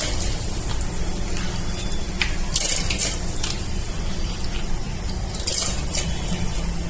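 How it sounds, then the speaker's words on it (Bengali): Lentils are poured into hot water in a pressure cooker, making a continuous loud rushing, splashing gush with a few brighter spatters. "দিয়ে দিচ্ছি ডালগুলো"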